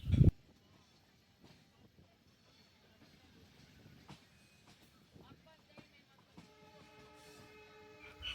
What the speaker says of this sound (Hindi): अभी हमारी ट्रेन डिपार्चर ले रही है लालगढ़ रेलवे स्टेशन से